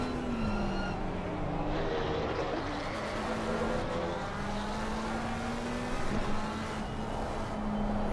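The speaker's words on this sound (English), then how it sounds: "the Porsche's good coming down the hill" A Porsche GT3 race car descends the hill at Laguna Seca, its engine a continuous droning whine with shifting pitch, heard steadily and fairly loud throughout.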